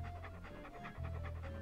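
Walt the dog in the PC game Monkey Island 2 pants in quick, even rhythmic breaths, close and moderately loud, over a low sustained game-music drone.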